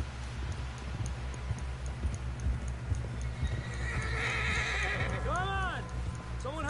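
Hooves clip-clop in a steady rhythm from a galloping horse in the snowy setting of the video game Red Dead Redemption 2, ending with a loud whinny, while a voice talks over it.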